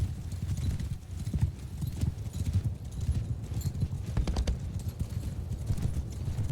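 Horse hooves gallop in the Bannerlord video game, a dense, continuous clip-clop of many hooves at close to middle distance, with a whinny and a rumble of battle underneath.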